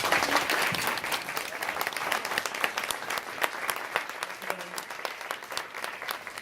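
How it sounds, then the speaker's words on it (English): An audience at a university class festival day gives a panel a dense, sustained round of applause that stays fairly loud and even from start to finish. "I hope you join me in a round of applause for our panel"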